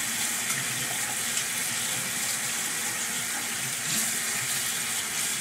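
Water from a tap runs steadily and close by while a makeup brush is rinsed under it, a continuous even splashing hiss with no pauses.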